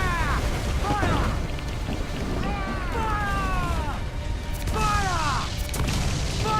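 Ship cannons fire in a naval battle in Assassin's Creed IV Black Flag, a dense, steady roar of booming broadsides and rumble throughout, with shouting voices and whistling tones riding on top.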